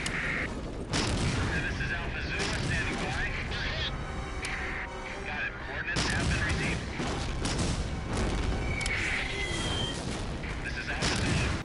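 Artillery fire in the World War II shooter Medal of Honor: Allied Assault, a dense stream of booms and gunfire blasts running continuously throughout, loud and busy with layered explosions.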